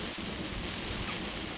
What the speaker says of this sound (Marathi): खूप पाऊस,